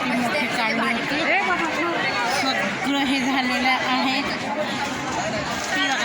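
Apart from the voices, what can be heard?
crowd hubbub at a village temple fair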